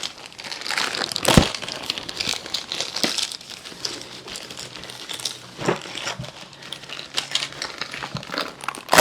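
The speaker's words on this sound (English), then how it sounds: "Let's just take this plastic off of this so we can kind of see what's going on here." Plastic wrapping is pulled and crinkled off water softener fittings, close up, in irregular bursts of crackling and rustling with a few sharper snaps, a sustained sound with no talking.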